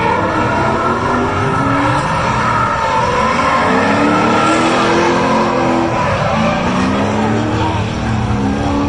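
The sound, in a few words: car crashing at LS Fest, engine and skidding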